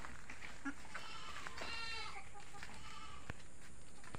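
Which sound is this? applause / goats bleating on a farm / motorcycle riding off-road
goats bleating on a farm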